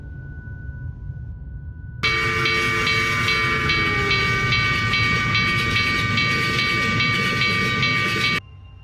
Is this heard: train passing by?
yes